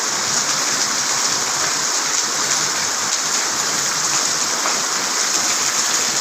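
Heavy downpour falling steadily, a dense, unbroken hiss of rain that stays loud and even throughout with no voices.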